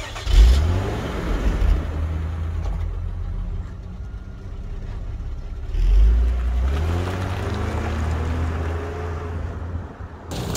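A 1994 Mazda 929 luxury sedan on a test drive, its engine rising and falling as it accelerates, with a low steady drone and road noise, close and continuous, no talking.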